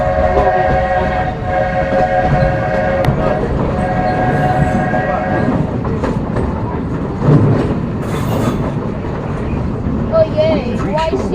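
A Walt Disney World Railroad train rumbles steadily along with a sustained horn-like tone early on, while passengers' voices murmur beneath the rolling noise.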